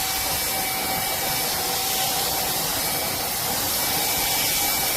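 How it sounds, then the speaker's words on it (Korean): Okito E950 corded electric paint spray gun spraying paint onto wood propped on a painting stand, a steady loud airy hiss with a motor whine running continuously and close throughout, no voices. "이 상태에서 오키토 유선 스프레이건으로 쓱쓱 뿌려주면"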